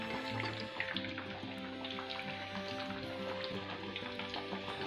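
Vegetable bajji in gram-flour batter fry in oil with a steady, soft sizzle and fine bubbling crackle, close but quiet and continuous, with faint background hum and no talk.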